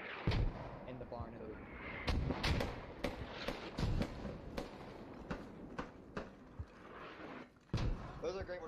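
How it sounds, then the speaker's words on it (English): Mortar rounds land in a military video game, a string of sharp booming impacts at uneven intervals, some near and loud, others duller, with players talking over the barrage. "Those are great mortars."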